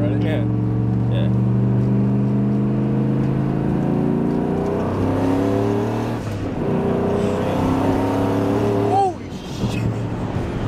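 A 435-horsepower turbocharged NewEdge Mustang accelerating hard on a 45 mph road, the engine note climbing loud and close through rising gear pulls, with a shift and voices talking over it.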